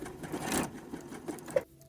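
Sewing machine stitching across the overlapped quarter-inch ends of a waistband on a thong-back garment, a steady close whir running about a second and a half before stopping with a small click.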